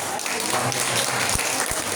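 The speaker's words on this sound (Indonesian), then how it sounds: "Wah, tepuk tangan." A crowd claps in a dense burst of applause, steady and fairly loud throughout.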